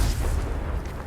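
The Confringo fire spell from Hogwarts Legacy going off as a short, low, rumbling blast, a single muffled boom that fills the moment with no talk.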